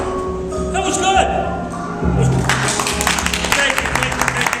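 Scattered clapping from a small magic show audience in Rock Island, Illinois, uneven individual claps starting partway through with talking over and around them.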